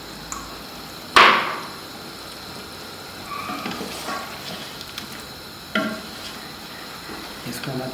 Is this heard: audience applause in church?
no